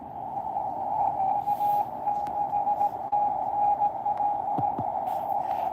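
Morse code ham radio signal received from a station in Utah: a steady keyed tone pulsing in dots and dashes, continuous over a hiss of background noise, with no talking.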